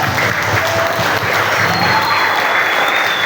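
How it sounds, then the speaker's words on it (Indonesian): Loud, sustained applause from a school audience at an orientation-week alumni talk, a dense even wash of clapping that holds steady for the whole span with no gaps. "Oke Kak, boleh tepuk tangan dulu dong."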